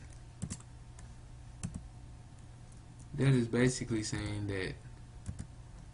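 Typing on a computer keyboard while writing a C++ calculator program, a few sparse close key taps with a short stretch of talk over a steady low hum.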